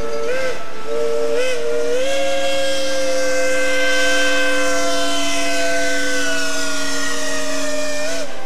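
A steam-powered rock train hauling riprap sounds its steam whistle in one loud, sustained blast with a couple of short toots first, ringing over a steady hiss.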